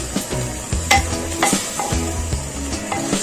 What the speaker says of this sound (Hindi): और ये टमाटर और लहसुन अदरक की भी बहुत अच्छे से इसमें भुनाई हो चुकी है इस टाइम पे।